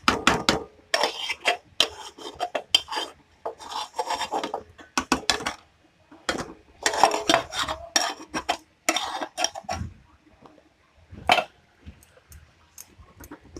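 Roasted khoa is stirred into beetroot halwa in a pan, giving irregular bursts of scraping and rubbing as a spoon works the thick mixture, close and fairly loud, with short quiet gaps between strokes.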